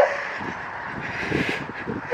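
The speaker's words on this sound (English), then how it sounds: "Little ducks." Small ducks calling from up in a tree, a faint run of quacking calls over steady outdoor background noise, fairly distant.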